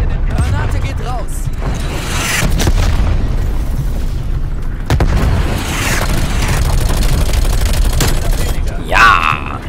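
A grenade explodes during a multiplayer match of Call of Duty Black Ops Cold War, with loud booms and bursts of gunfire rolling through a dense, noisy battle scene.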